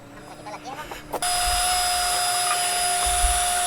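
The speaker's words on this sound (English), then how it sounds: "this is my DeWalt small 20 volts vacuum" A DeWalt 20-volt compact cordless vacuum switches on after a moment of quiet clatter, then runs with a steady, loud whine and airflow roar close by.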